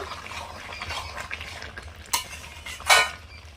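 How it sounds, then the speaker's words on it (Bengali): Chicken curry being stirred in a pan, utensil scraping and clinking against the metal with a couple of sharper knocks near the end, close and moderately loud, no talking. "চাপা দিয়ে দিয়ে এই জলটা একদম নেড়ে নেব"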